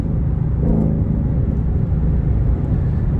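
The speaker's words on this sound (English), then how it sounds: "I just think that exhaust note is really just a healthy" Deep, steady exhaust rumble from a Ford Shelby GT500, loud and continuous at close range with no talking over it.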